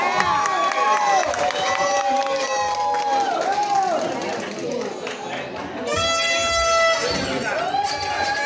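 A crowd at a New Year's Eve concert cheers and shouts loudly and continuously to welcome a singer on stage, with voices and a tonal sound running through the noisy, sustained roar.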